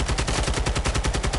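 Rapid automatic gunfire in a video game, a loud, evenly spaced burst of shots firing continuously with no pauses.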